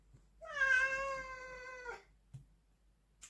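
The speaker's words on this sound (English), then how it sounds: "Sorry, my cat's screaming." A single drawn-out cat meow, loud and close, rising then holding steady for over a second before cutting off, with quiet room tone around it.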